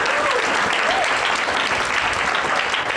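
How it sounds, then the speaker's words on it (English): Loud, dense applause from a hackathon audience fills the whole moment, continuous clapping with a few faint voices mixed in. "please give her a round of applause,"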